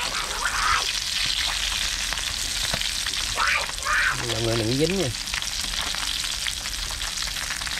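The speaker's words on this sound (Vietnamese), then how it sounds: "Chiên cá này có một cái chế độ cao á." Fish frying at high heat in hot oil, a steady broadband sizzle and crackle that runs the whole time, with a brief tonal voice or honk-like sound partway through and a few quiet words spoken over it.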